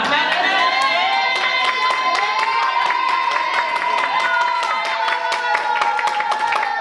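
A church congregation cheers and acclaims the Lord during a service, a sustained loud mix of crowd voices and clapping over several seconds, with no single voice standing out.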